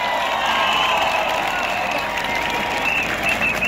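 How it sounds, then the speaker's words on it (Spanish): Crowd applause at a political rally for Venezuela, a dense continuous wash of clapping with scattered cheers, loud and sustained throughout. "Esos aplausos"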